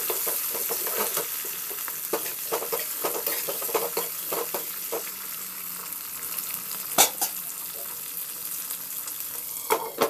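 Cut green chillies fry with tempered spices for a chilli pickle, giving a steady close sizzle with frequent scraping stirs and a couple of louder knocks against the pan, and no talking.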